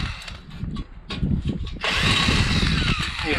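Power drill driving out screws from greenhouse panels, a short whine that rises and steadies into a continuous high-pitched drone after about two seconds, close and fairly loud.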